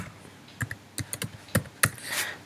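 Someone types code on a computer keyboard, with about half a dozen light, irregular key clicks and taps, close up and with no voice over them.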